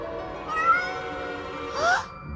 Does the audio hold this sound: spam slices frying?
no